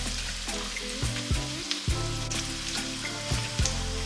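Tomato paste fries in hot oil for a Ghanaian cabbage stew, sizzling steadily with crackling pops while it is stirred. There are occasional soft clatters of utensils.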